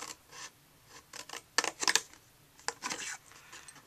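Scissors cut paper along score lines while assembling a gift box, giving a series of quiet, close, crisp snips and rustles in short irregular bursts.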